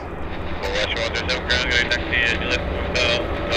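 A passenger airliner arriving from Incheon, in raccoon livery, landing at Vancouver airport: a steady, broad jet roar heard from a distance, with people talking over it.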